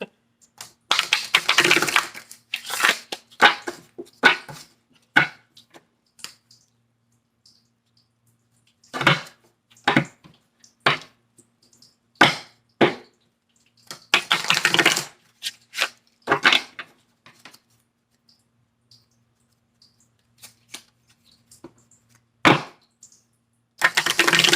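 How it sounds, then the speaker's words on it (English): A deck of tarot cards is shuffled in a series of short, crisp riffling and flicking bursts, each followed by a pause, and the bursts come in irregular clusters with quiet gaps between them. "I'm going to shuffle it again, okay, guys?"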